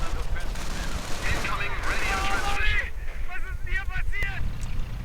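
Rapid machine gun bursts and scattered gunfire crackle through a busy video game battle, with Americans pushing a heavy machine gun and a rifleman squad forward, all under a dense, noisy mix of battle sounds.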